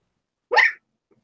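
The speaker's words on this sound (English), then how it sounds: "Hiccups." A person hiccups once, a short sharp voiced burst in a quiet room, followed by a faint tiny second sound a moment later.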